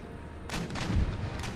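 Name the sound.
artillery fire in video game Empire Total War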